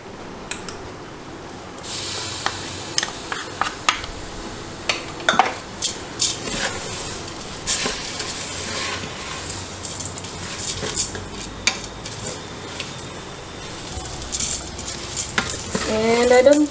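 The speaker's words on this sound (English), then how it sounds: "Next we are going to add tomatoes." Tomatoes go into an oil-free khichdi of rice, lentils and vegetables cooking in a pot, with steady stirring, soft sizzling and repeated clinks of a utensil against the pot close by.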